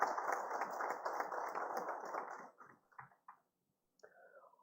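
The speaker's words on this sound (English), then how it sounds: "Let's give a big round of applause to Dr." Audience applause at the concluding session of a competition ceremony: dense, steady clapping for a couple of seconds, then thinning into a few scattered claps and a quiet close.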